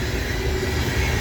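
A GE AC44C6M freight locomotive rolls past with a steady, dense rumble and wheel noise, loud and close, with no voices.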